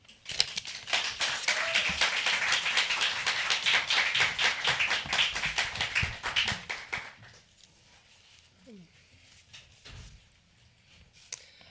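Warm audience applause for a poet at a Southern California poetry festival literary showcase, a dense run of clapping for about seven seconds that then fades to a quiet room with a few stray taps.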